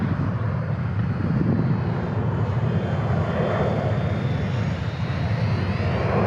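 An Eachine Spitfire 400mm micro RC warbird plane flies with a steady, buzzing electric motor drone and a rushing wind-like roar, loud and continuous throughout, with no talk.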